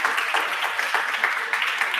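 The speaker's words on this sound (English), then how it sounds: "So can I have a big applause for them?" Conference audience at a tech solidarity event in Barcelona giving a round of applause, dense continuous clapping at steady volume with no voices over it.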